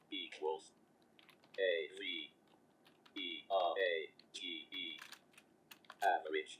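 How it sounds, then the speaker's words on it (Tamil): Keystrokes on a computer keyboard as a formula is typed, with scattered clicks interleaved with bright electronic tones and a synthetic speaking voice. "அகைன் நான் ஃபார்முலா டைப் பண்ணிக்கிறேன்"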